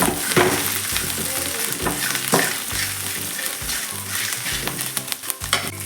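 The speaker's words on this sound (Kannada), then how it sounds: "ಚಕ್ಕೆ, ಲವಂಗ, ಸ್ವಲ್ಪ ಕಾಳು ಮೆಣಸು, ಬಡೆ ಸೊಪ್ಪು ಸಹ ತೆಗೆದು ಫ್ರೈ ಮಾಡಬೇಕು." Whole spices, curry leaves and coriander leaves fry in a pan for Mangalorean egg green masala, a steady close sizzle with repeated stirring scrapes and clatters throughout, no talking.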